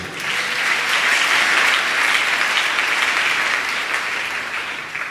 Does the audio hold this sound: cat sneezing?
no